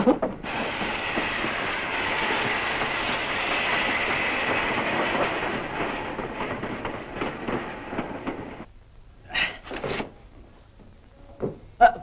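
A train pulls into a station with a sustained rumbling clatter of wheels that fades and stops, followed by a few sharp squeals and clanks of the carriages settling.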